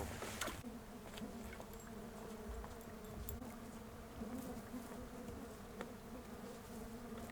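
Flying insects buzz indoors during a nomad river journey down the Lena, a dense, continuous droning hum of many wings, close and fairly faint, with no talking.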